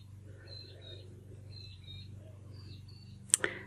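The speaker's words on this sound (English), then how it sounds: "That noisy little bird that you can hear now is called a peewee." A peewee repeats short, whistled two-note calls several times in a quiet outdoor setting, followed by a couple of sharp clicks at the end.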